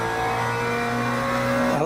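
A racing car's engine in a racing sim game holds a steady, loud, buzzing high-rev drone with strong harmonics, sustained close-up and briefly pitching down near the end, with no voices.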